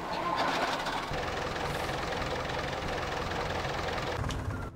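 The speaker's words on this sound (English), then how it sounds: "Let me turn that engine over and be quiet so you can hear it." Heavy diesel engine of a CAT dumper truck in Farming Simulator, idling with a steady, dense rumble that holds throughout and fades slightly at the very end, with no talk over it.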